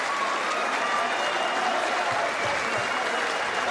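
Sustained applause from a large snooker crowd celebrating Ronnie O'Sullivan's 1,000th century break, a dense, even wash of clapping that continues throughout.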